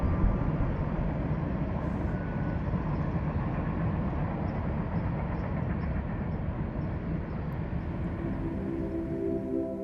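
Steady heavy rumble of a BNSF manifest freight train rolling past at Cascade Locks on the Columbia River, a continuous broadband roar with no talk, holding level throughout.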